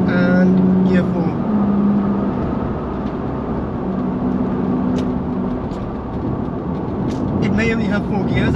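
BMW 325i E30 from the 1980s with a four-speed manual, accelerating through the gears on a dual carriageway; steady engine drone rises and drops with each shift, with someone talking over it throughout.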